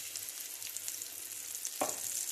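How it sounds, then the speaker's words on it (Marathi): Coated pomfret fish fries in hot oil, a steady close crackling sizzle that holds throughout, with a brief clatter of stirring or handling near the end. "कोटिंग करून आम्ही त्याला फ्राय करूया."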